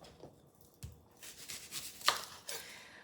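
A knife chops through an onion in a handful of soft, irregular cuts against a board, quiet and close.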